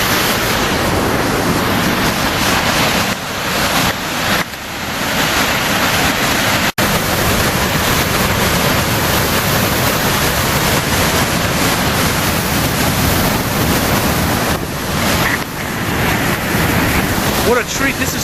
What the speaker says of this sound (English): Now I'm at the very base of the falls.